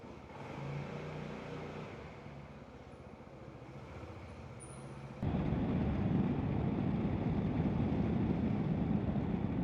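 Riding a Qooder Quadro QV4 four-wheeled scooter out of a car park, a steady engine drone that jumps suddenly louder midway into broadband motor and road rumble, continuous with no talking.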